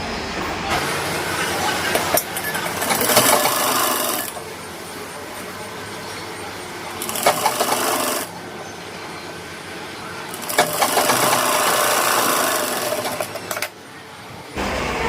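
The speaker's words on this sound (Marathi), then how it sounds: "आता याला आपण काय करू शिलाई मारून घेऊ" Sewing machine stitching a cup into a princess-cut blouse with double lining on thin net fabric, running in three long bursts of steady whirring separated by brief pauses, close and fairly loud.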